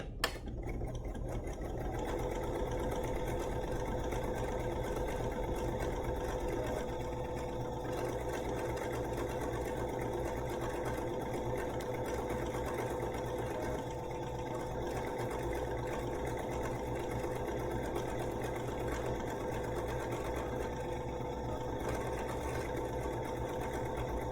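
A BERNINA sewing machine stitches continuously for over twenty seconds, a steady, even motor whir with a fast mechanical needle rhythm throughout and no pauses.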